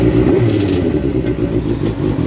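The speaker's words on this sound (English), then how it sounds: "I'm gonna start it back up again for you guys." A 2005 Suzuki GSX-R750 motorcycle engine fires up and runs loud and close, with a steady low rumble and a slight clattery, uneven idle throughout.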